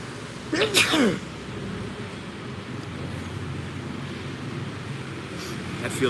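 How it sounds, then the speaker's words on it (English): A man's single sneeze bursts out near the microphone, followed by a steady wind-like rush with soft background noise, then a faint second breathy catch near the end. "I gotta sneeze, man."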